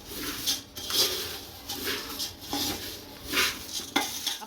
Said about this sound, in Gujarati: હાલ છે ગરમ છે એટલે ચમચાથી ફેરવું પડે